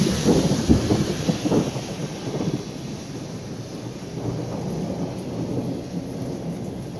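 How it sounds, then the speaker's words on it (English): Thunder from a supercell thunderstorm: a deep rolling rumble that swells early and slowly fades, with rain pattering steadily underneath and no voices. "She's waiting on the thunder."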